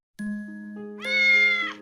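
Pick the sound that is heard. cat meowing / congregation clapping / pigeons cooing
cat meowing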